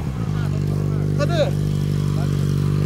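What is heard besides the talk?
CB1000 motorcycle riding by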